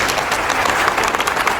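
An audience applauding at a Sindh Governor's free IT course event, dense steady clapping from many hands, loud and close, with no voices over it.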